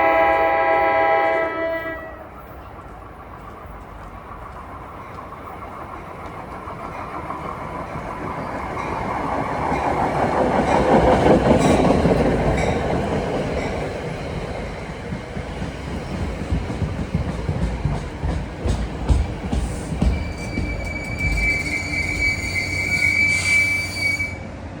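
A New Jersey Transit train headed by an EMD diesel locomotive arrives, its rumble swelling to a loud peak midway, then wheels squealing and railcars clattering close by; a brief horn-like tone sounds at the start.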